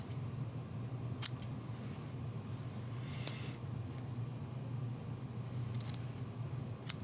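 Scissors trim the edge of a handmade greeting card, giving a few crisp, close snips spaced a second or two apart over a steady low room hum, with no talking.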